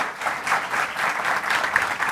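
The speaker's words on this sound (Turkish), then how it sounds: "kocaman bir alkış rica ediyorum arkadaşlar" An audience applauds guests being called onto a comedy talk show stage, a brief, dense burst of many hands clapping at an even moderate level throughout, with no clear speech.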